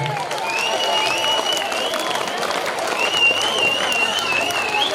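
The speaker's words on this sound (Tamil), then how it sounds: "சேகனா வெள்ளைக்கன் கைதட்டுங்கய்யா." Crowd applause at a Krishna Jayanti prize-giving ceremony in Kuruvadi, a continuous wash of many hands clapping with a whistling tone running above it and a few voices mixed in.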